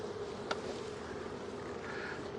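A close, steady buzzing drone of many honey bees at a hive fills the air, continuous and fairly loud with a brief tap near the start.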